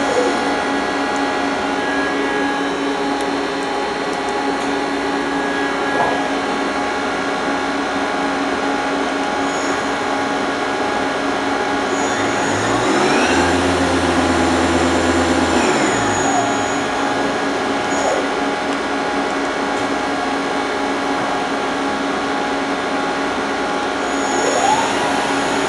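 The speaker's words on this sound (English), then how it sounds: "We'll get it to change gear here." Steady whine of a Mori Seiki AL-2 CNC lathe spindle running at speed, with a brief low clunk and shift midway as the two-speed headstock changes gear, then the hum resumes, loud and continuous.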